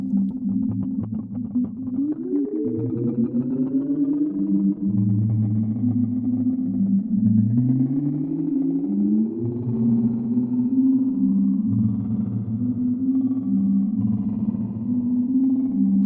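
A guitar washes through heavy reverb from a Strymon NightSky pedal in smooth mode, its pitch gliding continuously up and down within a 2.5-octave range, sustained and ambient, with no voices.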